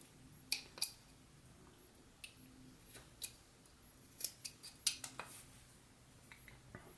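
A knife whittles a wooden figure, carving a stop cut and slicing into it; sparse, faint, crisp clicks and scrapes come in short scattered bursts close by, with quiet pauses between them.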